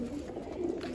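Penned pigeons in a rooftop enclosure give a brief, soft burst of low cooing, close and quiet.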